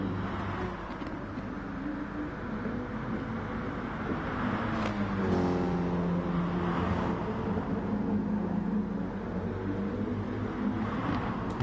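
A racing car engine in a racing video game, the car on worn tyres during a race, its engine note sweeping up and down through gear changes in a continuous, moderately loud drone.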